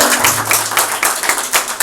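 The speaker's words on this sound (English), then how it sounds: "Let's give a huge round of applause to Justice Katju." Audience applause for Justice Katju after a long discussion session, a loud, close round of many hands clapping with uneven surges and individual claps standing out.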